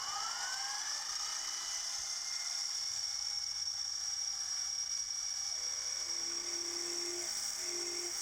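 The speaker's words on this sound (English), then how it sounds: "now we're in with a drill that's 1/64 under 1/4 of an inch." A drill bit just under a quarter inch boring a hole with cutting oil, a steady high-pitched whine that holds level throughout, close and continuous with no talk.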